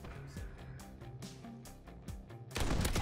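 Gunfire in the Modern Warfare video game: a rapid series of sharp shots in quick bursts, ending in a louder, denser blast of fire.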